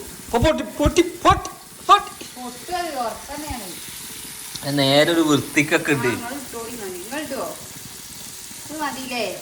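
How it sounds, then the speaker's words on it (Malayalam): Fish roe fries in coconut oil in a pan, giving a steady sizzle underneath people talking nearby. "മീൻ മുട്ട നമ്മൾ ചട്ടിയിലേക്ക് ഇടാൻ വേണ്ടി പോകണം. കുറച്ച് വെളിച്ചെണ്ണ ഒഴിച്ച്"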